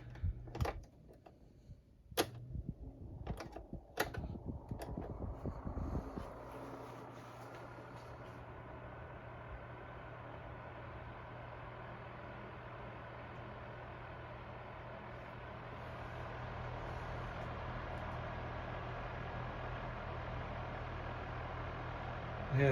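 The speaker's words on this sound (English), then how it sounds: "here's the low speed on the Frigid, which is basically a rebadged Sanyo, but it's older" An older Frigid oscillating fan, a rebadged Sanyo with a late-70s or early-80s motor, runs on low speed. After a few clicks it settles into a steady hum with a high, thin whine, close and continuous.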